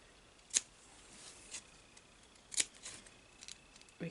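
Scissors clip the fabric seam allowance around a sewn cat collar, giving a few sharp, crisp snips spaced about a second apart, quiet and close.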